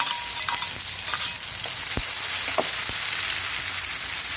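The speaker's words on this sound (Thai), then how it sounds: "พอน้ำมันร้อนเราก็ใส่ พริกกับกระเทียมลงไปค่ะ" Chili and garlic dropped into hot oil sizzle loudly and steadily, with a dense bright crackle and a few sharp pops and spatula taps over the frying.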